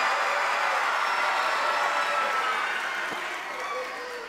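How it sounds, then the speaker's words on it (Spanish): At a Christmas puppet festival show, an audience claps and cheers loudly in a continuous wash of applause and shouting that begins to fade near the end. "Así que, ¡aplausos y gritos!"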